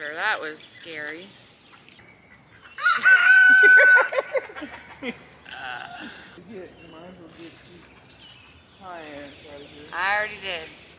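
A rooster crows loudly once, a long strained call, among clucking fowl, with people talking intermittently throughout.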